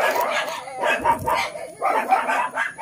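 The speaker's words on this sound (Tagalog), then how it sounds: "pasensya nyo na guys yung aso ko, maingay talaga" Noisy pet dog yapping repeatedly indoors, rapid high-pitched barks in quick bursts filling the clip, close and fairly loud during an unboxing.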